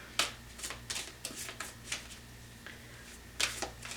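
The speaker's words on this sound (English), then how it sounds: "Whenever I shuffle these cards, they just like to go crazy on me." Tarot cards being shuffled by hand in a quiet room, a series of brisk riffling bursts of papery flutter at an uneven rhythm, close and alone without talk.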